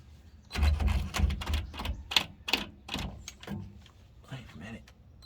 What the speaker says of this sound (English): The ratcheting sound.